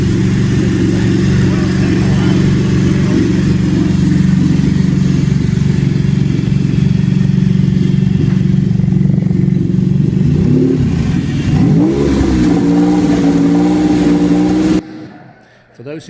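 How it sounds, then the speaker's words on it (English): A 3-liter, 560-horsepower British sports car engine idles with a loud, steady rumble, then revs up in several sharp rising blips before cutting off abruptly near the end. "no talk about cars is complete without some car noise. So let's have some of that"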